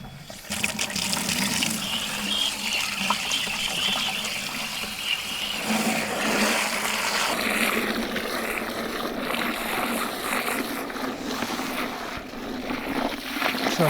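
Water from a garden hose pours steadily into a container for mixing a transplant boost solution, a continuous splashing fill that grows slightly foamy, close and fairly loud throughout.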